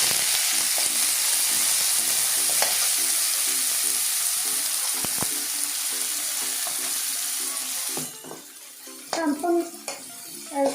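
Onions sauté in a pan for a fenugreek leaf thoran, a steady hissing sizzle that fills most of the stretch before thinning near the end, where brief scrapes and faint voice-like sounds break in.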